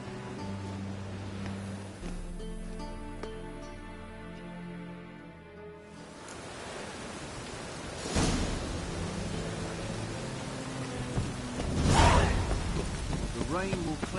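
In a city street scene from a PS4 game, steady rain hisses through the whole stretch, partly under speech and music, with louder rushing gusts in the second half.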